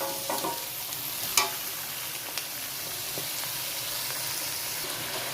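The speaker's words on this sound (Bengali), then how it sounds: "এবার আমি দিয়ে দেবো ক্যাপসিকাম, টমেটো কুচি সবকটাই আমি দিয়ে দিলাম। হাফ হাফ ভাজা হয়" Capsicum and chopped tomato fry in a pan for chilli chicken gravy, a soft, even sizzle with a few sharp clicks from stirring.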